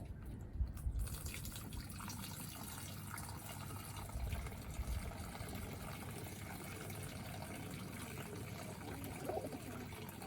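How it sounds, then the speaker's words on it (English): Water poured into a drinker for racing pigeons in a loft, a faint, continuous trickling and splashing under low ambient noise, with a few brief knocks. "Put some water on for the girls a minute."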